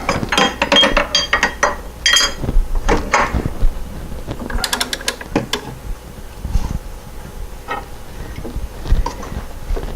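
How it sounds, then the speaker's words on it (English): A hand ratchet clicks in quick bursts while tightening the crank bolt on a Porsche 912 engine during a rebuild, close by, followed by scattered metallic taps and tool handling. "go ahead and tighten this crank nut a little bit, crank bolt."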